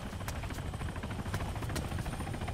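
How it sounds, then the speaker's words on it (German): Close, continuous helicopter noise in the video game Arma 3, with rapid rotor chopping and an engine drone, holding steady throughout with no talking. "Ich höre ein Heli."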